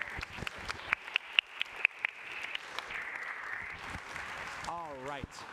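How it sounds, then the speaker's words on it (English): A winter concert audience at a high school band performance gives the bands another round of applause, scattered claps against a softer crowd wash, with a voice speaking near the end. "So one more round of applause for them really quickly."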